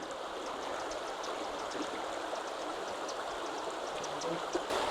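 Clear water pouring out from beneath the rock at the foot of Malham Cove in Yorkshire, a steady close rushing flow with no breaks, fairly quiet and even throughout.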